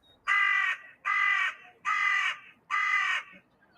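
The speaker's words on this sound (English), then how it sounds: "That's a crow, right?" A crow at a county cricket ground gives four harsh, evenly spaced caws, each about half a second long, clear and fairly near against a quiet background.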